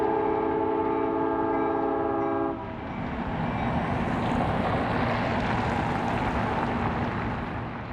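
An Idaho Northern & Pacific train led by first- and second-generation EMD locomotives passes on the Joseph Branch beside Island Avenue, a loud chorded horn blaring for a few seconds before giving way to a continuous roar of engines and rolling cars.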